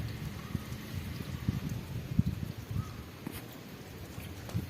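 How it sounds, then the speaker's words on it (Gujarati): Light rain falls on a village with a soft, steady patter and a few sharper drops. No one speaks. "11 વાગ્યા છે ત્યારથી ધીમો ધીમો વરસાદ ચાલુ હતો"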